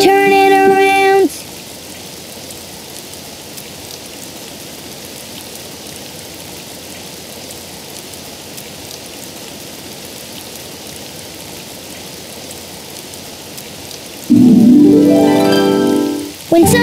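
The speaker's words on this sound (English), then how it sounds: "Oh, it's raining outside." Steady rain falls in a Daniel Tiger's Neighborhood children's video game, a continuous even hiss running for most of the stretch, framed by brief musical game sounds at the start and near the end.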